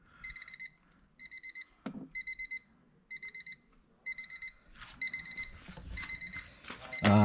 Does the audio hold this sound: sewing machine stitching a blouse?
no